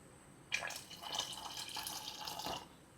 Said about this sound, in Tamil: இப்போ கொஞ்சம் ஜலம் விட்டு டைல்யூட் பண்ணிக்கலாம்.